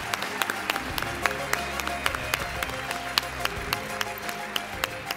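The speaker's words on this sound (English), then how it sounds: "Round of applause." Steady applause from an audience at a university staff service and recognition awards ceremony, a continuous wash of many hands clapping at moderate distance with sharp individual claps standing out, no voices over it.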